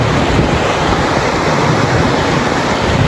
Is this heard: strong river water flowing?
yes